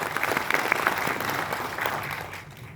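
Audience applause in an indoor hall during a motivational business talk, a dense steady clatter of many hands clapping that carries on without pause before thinning out right at the end.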